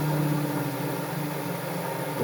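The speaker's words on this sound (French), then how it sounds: "je ralentis ma vitesse moteur" A COPEXA universal sharpener's motor, driven by a frequency variator, hums steadily and quietly as it slows, with only a soft continuous drone and no voices.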